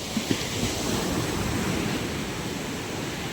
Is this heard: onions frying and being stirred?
no